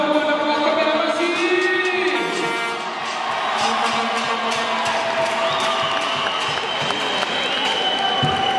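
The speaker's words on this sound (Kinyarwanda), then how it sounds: "Afana b'u Rwanda mwakomera amashyi." Rwandan fans in a packed arena cheer and applaud continuously, a loud, dense roar of crowd noise and clapping with whoops, holding steady throughout with a brief dip midway.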